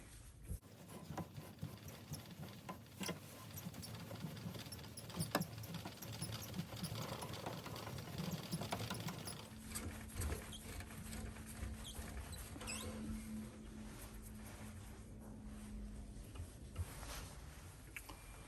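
Steel 10x0.75 tap cutting threads inside a black Japanese ebonite fountain pen body, a steady low grinding and rubbing with faint ratcheting, quiet and continuous throughout.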